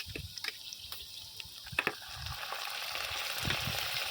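Green chilies and onions fry lightly in oil, a soft close sizzle with scattered clinks and stirring taps from a utensil, the hiss thickening toward the end, with no voices.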